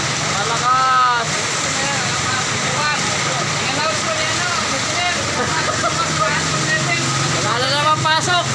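Heavy rain during a rainy September day, a constant broadband rush pouring down steadily throughout, with people talking over it.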